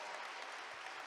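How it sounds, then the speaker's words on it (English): An audience applauds candidates in a short, steady wash of clapping that sounds somewhat distant and soft, with no voices over it. "Big round of applause for our candidates."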